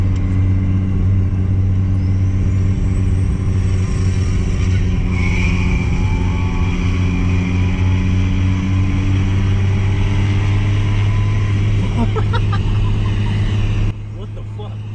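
A Nissan R35 GTR pulls hard in a roll racing run, a loud, steady engine drone and rumble sustained throughout with shifting tones and some wind noise.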